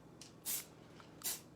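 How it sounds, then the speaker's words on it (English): Aerosol spray can used on a card in a craft session: two short hissing bursts, the second a little shorter, close to the microphone and fairly quiet, with no talking over them. "So I'm just spraying it right on."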